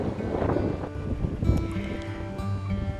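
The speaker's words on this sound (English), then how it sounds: "we went out and got a blast of the wind" Strong gusting wind on a South Padre Island beach beside an angry Gulf on a cold, cloudy Christmas day, a continuous rough blustery roar buffeting the microphone.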